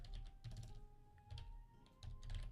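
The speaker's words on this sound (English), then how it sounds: "sorry for the loud typing" Typing on a computer keyboard in bursts of quick clacking keystrokes separated by brief pauses, fairly faint and picked up by a nearby microphone during a strategy game session.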